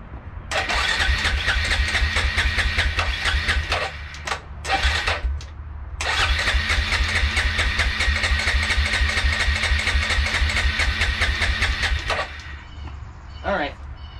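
A Suzuki King Quad 400 ATV engine cranks and catches, sputters through a couple of brief stalls, then settles into a steady, loud idle with light throttle, close to the listener.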